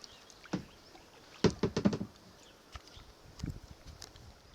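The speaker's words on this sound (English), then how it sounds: "So we see everyone paddling to the right." Paddles splash and knock in the water as a group of people paddle inner tubes down Antietam Creek, with a cluster of quick strokes in the middle and a few softer splashes later, fairly faint and without talking.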